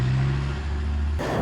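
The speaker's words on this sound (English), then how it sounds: "Sarah's just driving off now, she's got to go and run some errands." A car pulls away from a used-car dealer's lot, its steady mid-range engine drone running close and fairly loud before cutting off abruptly near the end, with no talking.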